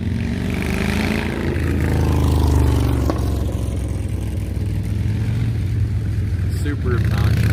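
A loud car engine roars and rumbles close by, sustained the whole time as the vehicle drives past at speed, about 40 mph on a 20 mph road beside a park.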